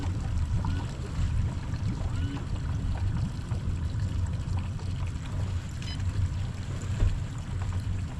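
A new boat's outboard motor drones steadily at a moderate distance on a lake at Baskatong, with wind and water noise mixed in and no voices.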